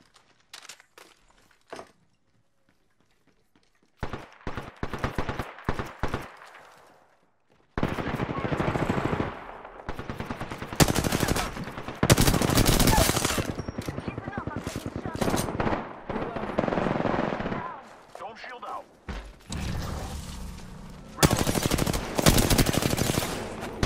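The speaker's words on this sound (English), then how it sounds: "Listen up, I'm getting shot at." Gunfire in the battle royale game Apex Legends: long rattling automatic bursts and rapid shots, loud and close, coming in heavy waves separated by brief quiet gaps.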